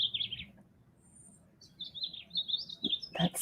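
A bird chirps outdoors with repeated high, thin tweets and warbling phrases, moderately close, heard alone over faint background noise.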